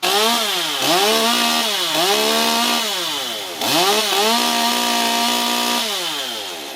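A chainsaw, likely a Stihl, buzzes loudly and close, its engine pitch revving up and dropping back in repeated surges, with no voices.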